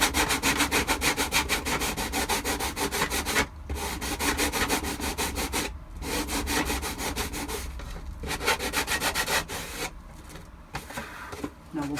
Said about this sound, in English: Go over it with a sanding sponge just a little bit,